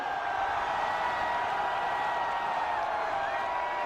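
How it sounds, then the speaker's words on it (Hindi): A large outdoor crowd at Noida International Airport awaits Prime Minister Modi, a continuous roaring wash of distant applause and cheering with voices mixed in, steady and loud throughout. "तालियों की गड़गड़ाहट पूरे देश तक जानी चाहिए।"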